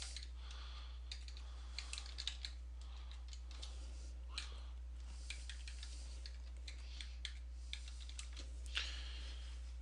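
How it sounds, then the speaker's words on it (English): Typing a title on a computer keyboard: a run of soft, quick key clicks in uneven bursts over a low steady hum, faint and close, with no talking. "We're going to go ahead and type a basic title."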